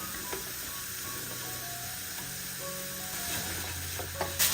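Samosa filling with coriander leaves is stirred in a hot pan, giving a soft continuous sizzle with faint scraping and occasional light clinks, quiet and close with no talking.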